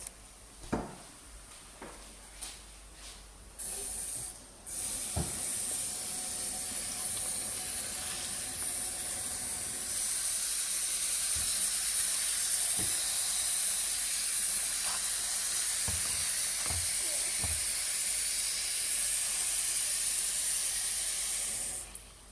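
Water runs steadily from a tap in a loud hissing stream as cabbage is washed, with occasional clunks and knocks of handling in a sink.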